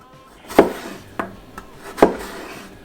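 A knife cuts peeled potatoes into sticks for french fries on a board, with three crisp, separate chops and a lighter tap between them, close and quiet.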